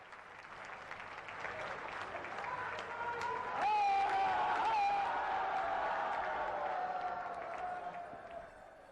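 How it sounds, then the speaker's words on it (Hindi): A large audience at a Varanasi event with Prime Minister Narendra Modi breaks into loud applause and cheering that swells and then slowly fades, with a voice speaking over the crowd. "आप सब अपनी भावनाओं के पुष्प जोरदार तालियों के माध्यम से मंच तक पहुंचाएंगे"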